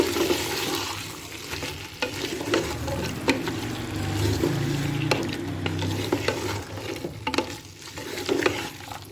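Half a kilo of kachnar buds stirred into mutton curry in a pot, a wet bubbling sizzle with recurring clatters of a spoon scraping the pot, continuous and close, no talking.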